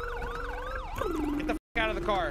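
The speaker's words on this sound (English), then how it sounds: "The sirens." Police sirens wailing in the GTA V NoPixel roleplay game, a rising and falling electronic siren sweeping loudly and repeatedly, changing pitch midway, cutting out briefly then resuming, with someone shouting over it.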